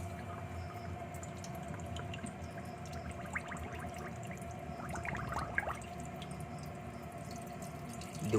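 Water sits and trickles in a clogged twin-tub sink with a slow bottle-trap drain, giving faint drips and small splashy gurgles over a quiet background hum.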